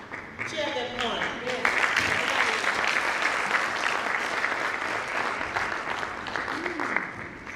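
An audience at a hackathon awards ceremony for a Western Kenya sanitation project gives loud, sustained applause with scattered cheers, filling the room continuously from start to finish.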